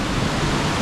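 Continuous broadband rushing of a waterfall in winter with large icicles nearby, loud and steady with no other sounds.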